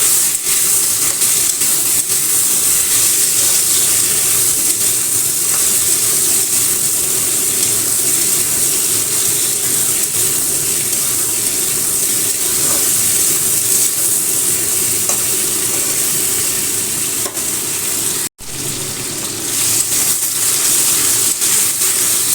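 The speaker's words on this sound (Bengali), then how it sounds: "আলু টমেটো পেঁয়াজ আর পাঁচফোড়নে ফোড়ন দিয়েছি" Potato, tomato and onion with panch phoron sizzling in hot oil. A loud, continuous hiss and crackle carries on for the whole stretch, with only a brief dip near the end and no talking.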